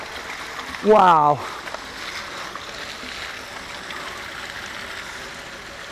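Water rushes steadily and evenly while a van's waste tank is flushed and emptied outdoors, with a person's brief exclamation near the start.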